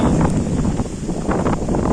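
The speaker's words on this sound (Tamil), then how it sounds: "ஸோ இந்த காற்று இன்னைக்கு ரொம்ப அடிக்குது." Strong wind buffets the microphone outdoors, a steady broadband roar with gusty swells across two seconds and no voices.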